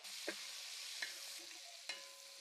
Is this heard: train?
no